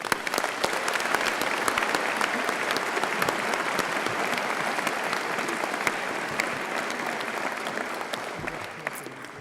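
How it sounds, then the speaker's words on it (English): Warm, continuous applause from a large audience at a Birmingham City University graduation ceremony, a dense even wash of clapping that holds steady throughout and tapers slightly at the end. "Please join me in giving them a warm round of applause."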